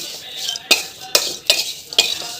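Dried shrimp dry-frying in a pan without oil, stirred with a utensil so the pan gives four sharp scraping clinks at an even pace over a faint crackle.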